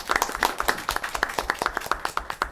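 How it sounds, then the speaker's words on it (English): A small audience at a school district board of education meeting claps for an honoree's wife, giving brisk, close, scattered applause with many overlapping hand claps. "Let's give her a round of applause."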